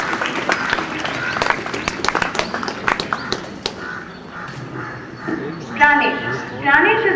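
Audience applause at a school farewell event, scattered claps rising in the first half, then fading under a speaking voice with some louder shouts near the end.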